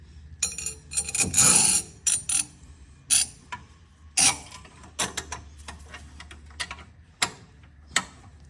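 Metal clicks and clanks from fitting the bottom piece of a universal clamp-on exhaust hanger onto a car exhaust, a run of irregular close knocks and rattles with short pauses and a low steady hum underneath, no talking.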